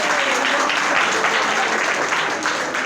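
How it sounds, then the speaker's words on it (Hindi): An audience at a business seminar claps together in a dense, steady burst of applause that holds at an even loudness from start to finish. "तो एक बार सभी लोग आप अपने लिए जोरदार तालियां बजा दें।"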